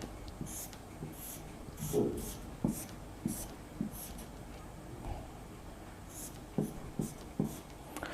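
Chemical structures being written during an organic chemistry lecture, with a marker scratching in short, irregular strokes and taps, close and fairly quiet, and no speech over it.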